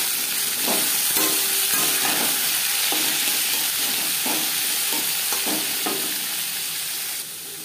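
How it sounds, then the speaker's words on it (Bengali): Cauliflower stalks frying in oil with bay leaf and panch phoron, a steady close sizzle with scattered taps and scrapes of a spatula stirring the pan. "তেজপাতা পাঁচফোড়ন ভেজে নেওয়ার পর দিয়ে দেবো ফুলকপির ডাঁটা।"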